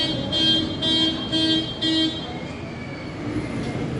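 A car alarm set off as someone gets into a car, sounding several loud repeated honking blasts in an even rhythm over street traffic before the honking stops.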